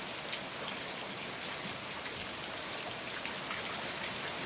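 Steady rain falls outside, a soft, even hiss of drops pattering on surfaces that continues without a break, fairly faint and with no voices.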